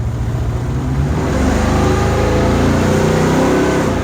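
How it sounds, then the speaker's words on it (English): A Chevy Nova engine revs hard at full throttle, a loud, steady, close roar that builds and holds for several seconds with no talking over it. "Floor it, Margaret."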